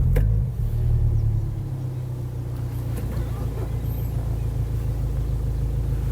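A Peugeot 206 CC convertible, about twenty years old with 21,000 miles, idles steadily and quietly close by, a continuous low engine hum with no revving.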